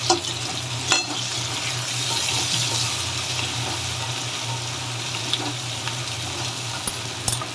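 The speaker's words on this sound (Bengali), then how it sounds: "আলুগুলো ভাজতে দিলাম।" Potatoes fry in oil for a tangra fish curry, a continuous dense sizzle with a low steady hum and a few clinks from stirring.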